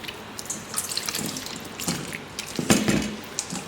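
Water runs from a kitchen tap while tamarind paste is made by hand, an uneven splashing flow with soft drips and clatter, close and moderately quiet.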